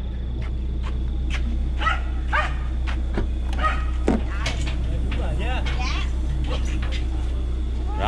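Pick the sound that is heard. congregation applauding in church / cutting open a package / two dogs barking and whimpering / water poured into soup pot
two dogs barking and whimpering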